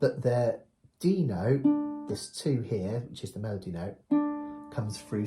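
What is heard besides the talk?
No distinct noise like a dog, phone or traffic.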